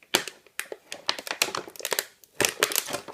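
Plastic packaging of a 1:28 scale M1A2 RC army battle tank being cut open around a metal part, giving close, irregular crinkling and crunching bursts with brief pauses between them, with no voices.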